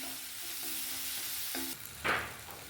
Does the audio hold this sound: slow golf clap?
no